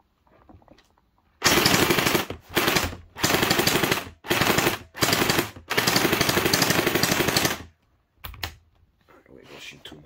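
Rapid full-auto bursts from an SRB400 Splatrball gel blaster, several sustained rattling volleys of varying length separated by short pauses, loud and close, with brief talk at the start and end.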